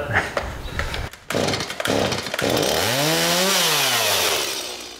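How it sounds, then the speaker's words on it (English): A chainsaw taken to a wooden cabinet pulls and sputters in short bursts, then catches and runs loud and close, its pitch rising and falling as it revs steadily. "Everybody knows chainsaws are tricky to start."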